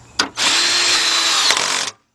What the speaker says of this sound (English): Let's tighten up our bolts over here.